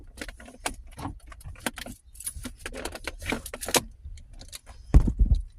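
A bunch of keys jangles in short, bright metallic bursts while being rummaged for, with louder clinking clusters near the end, close to the microphone.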